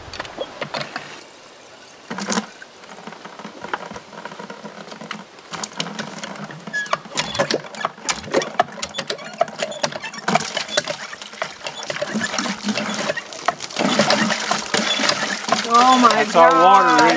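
An antique hand pump drawing well water at a remote off-grid property, with a steady run of squeaky, rattling mechanical strokes and splashing patter that grows louder toward the end; a voice is briefly heard.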